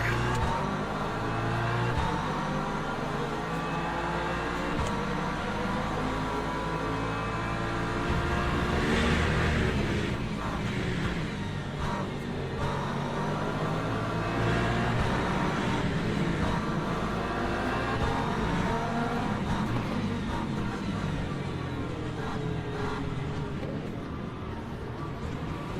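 Race cars in the Le Mans Ultimate sim racing game launch from the start at Portimao, a dense continuous roar of many engines revving together, loud and steady with no speech over it.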